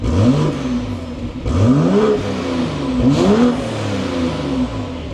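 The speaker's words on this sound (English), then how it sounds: "What you just heard with this twin-turbo inline six" A 2025 BMW X6 xDrive40i's twin-turbo inline six engine revs hard several times, rising and falling in pitch with a throaty, loud roar close by.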